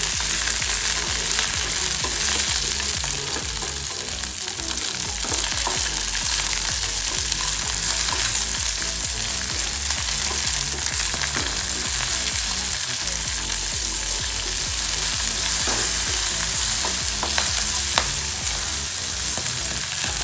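Biscuit cutlets fry in hot oil with a loud, dense sizzle and crackle that runs steadily for the whole stretch, with faint stirring clinks now and then and no voices.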